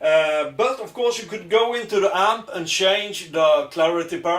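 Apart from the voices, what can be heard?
None of the usual background noises is heard.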